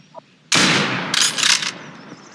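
A loud burst of gunfire in Garry's Mod, a sharp blast followed by a second rattling volley of shots, close and brief.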